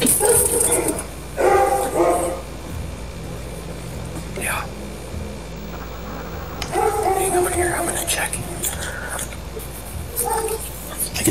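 Several bursts of dog barking and yipping come from inside a house a short distance away, muffled and intermittent, with a person's voice mixed in.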